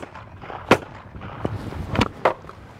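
Shotgun blasts ring out at clay targets at extreme long range of about 130 meters, several sharp reports spaced irregularly, loud and close, with a faint ambient background between shots.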